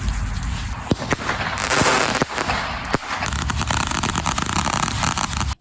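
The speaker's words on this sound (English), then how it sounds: "So I'm gonna go out and do some fireworks in the garden." Fireworks set off in a home garden, a loud continuous crackle and hiss with several sharp bangs standing out, close by and without speech.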